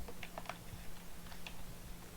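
Typing on a computer keyboard under Kubuntu 20.04 LTS, a few soft irregular key clicks over a low steady hum, quiet and close.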